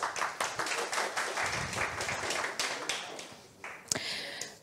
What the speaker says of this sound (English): So applause for startups and the jury who will evaluate today's startups team.